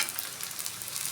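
Vegetable cutlets fry in a pan after more oil is added, giving a steady, dense sizzling hiss at close range with no other sounds.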